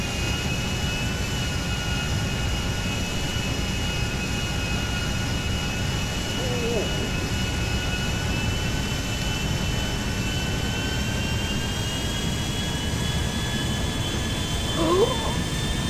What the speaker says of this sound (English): Big plane on the move!